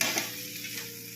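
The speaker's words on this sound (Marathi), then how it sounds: "असं हलवून घ्यायचं" Flattened rice (poha) being stirred in a pan, a short close scraping and shuffling with a light sizzle underneath.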